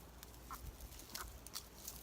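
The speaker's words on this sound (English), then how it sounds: "I have my chicken friends joining me today." A few short, soft clucks from chickens scattered across a quiet outdoor background, faint and close by.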